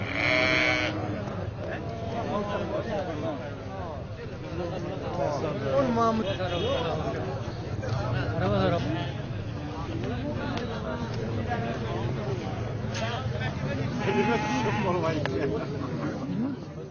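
Sheep bleat repeatedly over a steady murmur of people talking nearby, the animal calls rising now and then through the chatter of a livestock gathering.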